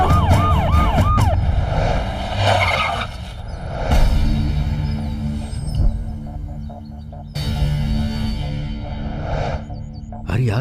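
A police siren wails in a Hindi-dubbed movie scene, its rising and falling tone clear at first and then fading under dramatic music, street noise and brief voices.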